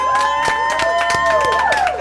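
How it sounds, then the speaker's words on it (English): Applause from an audience at an education recognition event, a steady wash of clapping mixed with crowd noise and a few cheers, with tonal sweeping sounds running through it. "let's give her one more round of applause"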